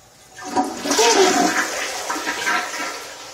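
A household toilet flushes nearby, water rushing and swirling in the bowl before settling into a softer drain, with no talking over it.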